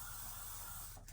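A continuous hiss of hair spray from a can, steady and close for about a second before tapering off.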